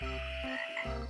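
Cartoon frog, the king of frogs in an animated story, croaks in two drawn-out, throaty bursts separated by a short pause, loud and close with no talking.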